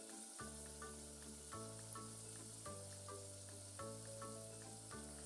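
Mandazis deep-frying in hot oil and being turned over and over until evenly brown, a steady dense sizzle that runs throughout under a soft, sustained musical tone with no voices.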